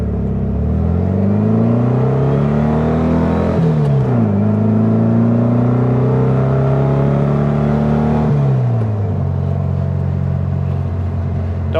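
Volkswagen Beetle driving at about 40 mph, its engine droning loudly and climbing in pitch through the gears, with two gear changes where the note drops before rising again; heard from inside, no talk.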